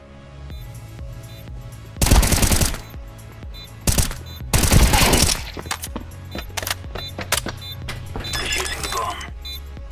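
Counter-Strike 2 gunfire aimed at a planted bomb, with two loud bursts of rapid shots and shattering impacts, followed by scattered single shots and clatter, while voices talk beneath.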